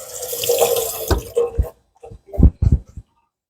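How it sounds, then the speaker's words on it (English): Turnip greens are rinsed under a running kitchen tap, a steady rush of water splashing into the sink for over a second, followed by a few soft knocks and handling thumps as the greens are moved. "Let's rinse this off real fast."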